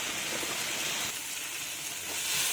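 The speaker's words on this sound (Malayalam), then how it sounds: "1 ടീസ്പൂൺ മുളക് പൊടിയും കൂടി ചേർത്തിളക്കുക." Chili powder and turmeric being stirred into hot oil for dal tadka, a soft, steady hiss of frying that swells slightly toward the end, fairly quiet, with no talking.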